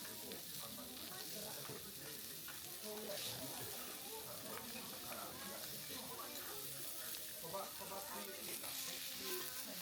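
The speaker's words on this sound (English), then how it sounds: "The staff grills the okonomiyaki on the tabletop griddle right in front of you." Pork okonomiyaki sizzles on a tabletop griddle in an Osaka restaurant, a soft, even frying hiss heard from a little distance with faint background murmur.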